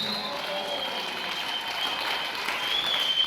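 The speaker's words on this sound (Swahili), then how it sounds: "piga makofi kwa Bwana wako Yesu" Congregation in a church clapping in praise to Jesus, a steady wash of many hands applauding, moderately loud and continuous, swelling slightly toward the end.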